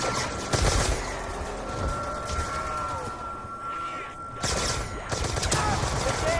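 Gunfire in a zombies video game on the Bureid map, bursts of rapid shots that cluster at the start and again toward the end, loud and close, with a quieter stretch in the middle.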